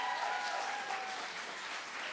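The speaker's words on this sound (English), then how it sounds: "Give them a round of applause," A crowd applauding student performers at a live TV show taping in a studio: faint, even, sustained clapping heard from some distance, with a thin steady tone briefly over it.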